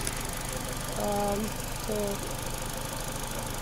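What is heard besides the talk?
Peugeot 307 180hp engine running loudly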